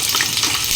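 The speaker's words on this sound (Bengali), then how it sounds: "আলু, পেঁপে একসাথে ভেজে নেব।" Potato and papaya pieces frying together in oil for shukto, a loud close sizzle with dense crackling hiss, brief and continuous.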